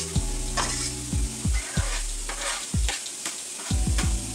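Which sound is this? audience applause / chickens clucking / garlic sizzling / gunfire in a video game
garlic sizzling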